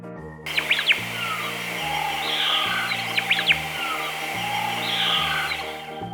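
Parrots chirping as a story sound effect, short bright tweets in two or three bursts over a sustained musical backing with a steady low hum throughout.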